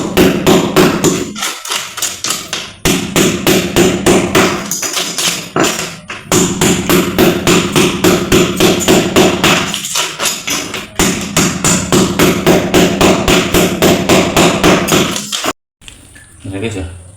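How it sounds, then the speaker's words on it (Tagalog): Steady rapid hammer taps chipping old cement off a clogged toilet bowl during replacement, continuing for about fifteen seconds with a couple of brief pauses, loud and close, followed by a short quieter stretch. "dapat po matanggal yan, yung simento na yan. Kaya tinitik-tik po natin."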